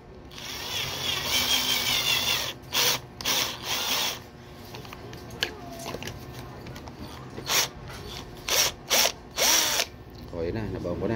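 An electric drill running close by while making a dart, with a steady stretch of boring broken by several short, sharp bursts of drilling near the end.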